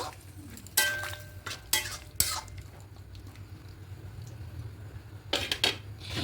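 Fried prawns being stirred into a prawn curry with taro, potato and aubergine after water has been added: a few brief clattering scrapes of a spoon against the pot, spaced out over a low steady background hum.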